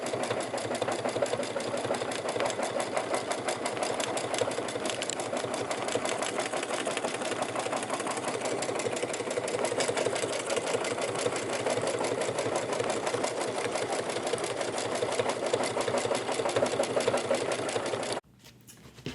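An embroidery machine quilting the outer fabric panel of a holiday basket runs steadily and loud with a fast mechanical needle rhythm, stopping abruptly near the end.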